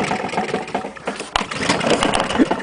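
A Honda lawn mower engine runs on white spirit, sputtering and firing unevenly in bursts at close range. The noise is loud and rough, with a sharp crack partway through.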